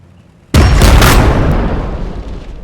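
A single heavy gun blast from Warhammer 40K Battlesector, a sudden loud boom after a quiet moment that rolls off slowly into a long decaying rumble.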